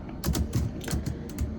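Quick bursts of keystrokes on a computer keyboard, a handful of soft clicks in an uneven rhythm, close and fairly quiet with no voices.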